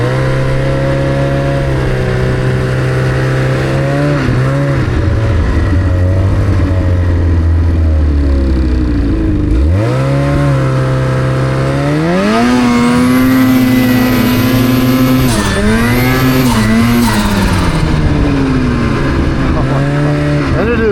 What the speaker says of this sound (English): Told him he should lean into the turbo and have a little fun.